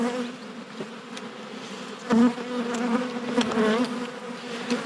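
Honeybees buzz around an open beehive in a close, steady drone, rising briefly in a couple of louder swells as individual bees pass near.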